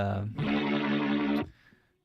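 A guitar through a Boss RT-2 Rotary Ensemble pedal plays one sustained, richly distorted chord with rotary modulation, ringing loudly for about a second before stopping abruptly.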